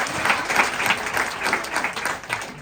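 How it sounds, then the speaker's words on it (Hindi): Audience applause at a celebration event in Mumbai, steady dense clapping from a crowd filling the room for a few seconds, with no talk over it. "तालियां बजा दीजिए भाई।"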